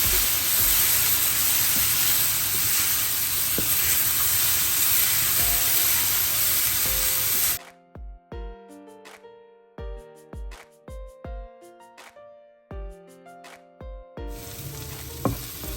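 Egg masala with pepper and salt sizzles in a pan, a loud steady frying hiss for the first half, then stops, leaving sparse spaced clinks and scrapes of stirring before the sizzle returns at the end.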